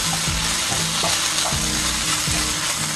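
Potato peels fry in a pan with a dense, loud, continuous sizzle, punctuated by occasional stirring scrapes and clicks.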